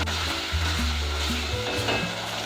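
Chopped capsicum cooking in a hot pan, a steady close-up sizzle with scraping stirs, continuous and fairly loud with no talking.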